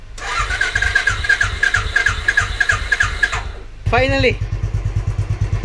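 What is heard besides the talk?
Royal Enfield motorcycle engine starting with choke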